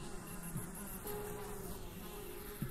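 Steady chirring insect drone, crickets in the Hellseed video game, a soft continuous background buzz with faint tonal hum underneath, no clear pulses standing out.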